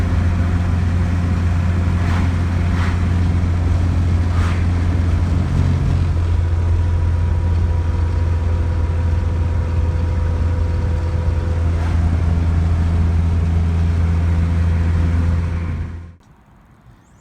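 A Honda car with VTEC engaged cruises at steady highway speed, giving a loud, continuous engine drone with road hum that holds evenly for about sixteen seconds before cutting off abruptly.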